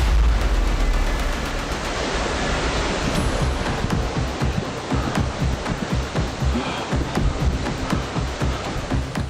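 Waterfall rushing beside a rocky climbing route, a loud continuous roar of falling water with rough crackling bursts, steady and close throughout.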